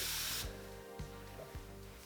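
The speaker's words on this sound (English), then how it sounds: "So I'm just spraying it a bit this side" Hair spray misted onto curly hair: a short close hiss that cuts off sharply, followed by a couple of soft taps and handling sounds.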